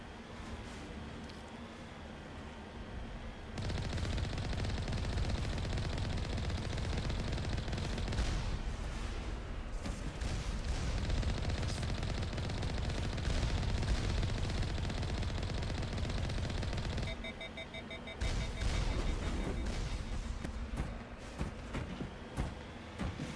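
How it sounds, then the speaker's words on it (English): Enemies at a mercenary camp fire sustained, dense bursts of gunfire in Mass Effect 1, loud and continuous for most of the stretch, with a brief lull and some engine-like rumble underneath. "They're shooting me."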